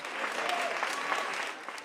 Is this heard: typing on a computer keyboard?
no